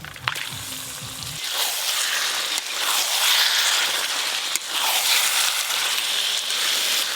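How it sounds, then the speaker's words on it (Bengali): Washed pieces of goat meat drop into a pot of oil-fried spices and break into a loud, steady sizzle that fills the kitchen, with a couple of brief clinks and a short scrape before it. "মশলা তো কষানো হয়ে গেল, ওপর দিয়ে কেটে ধুয়ে রাখা খাসি মাংস দিয়ে দেব।"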